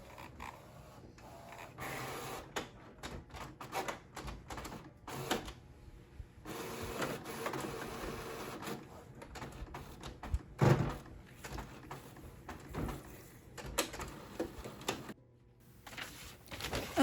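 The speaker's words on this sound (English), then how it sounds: "we're gonna go ahead and put this through the printer" An inkjet-style printer feeds and prints on vellum paper, its carriage whirring in repeated passes with clicks and mechanical clunks, quiet and close, with no talking.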